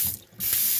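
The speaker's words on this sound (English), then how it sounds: "here's a new faucet. You got your hot water, your cold water, or vice versa, on, off," Water runs from a new kitchen faucet in a steady rush, cutting off briefly before flowing strongly again.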